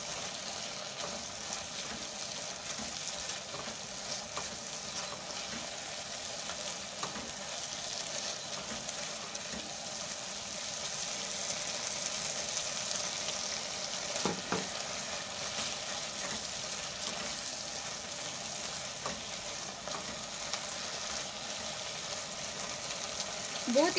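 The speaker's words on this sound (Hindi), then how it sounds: "अब हम इसे 2 से 3 मिनट तक अच्छे से भूनेंगे और साथ ही साथ हम इसमें मेथी शामिल कर देंगे।" Potatoes and fenugreek leaves frying in a pan for potato bhujia, a continuous close sizzle with occasional stirring scrapes, steady and even throughout.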